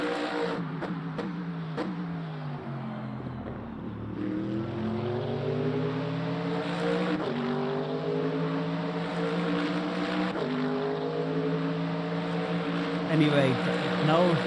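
Mercedes-AMG LMGT3 race car in the Le Mans Ultimate racing game on the Bahrain Outer circuit: a continuous loud engine note climbing through the gears with sharp upshift breaks and revving, close and steady throughout.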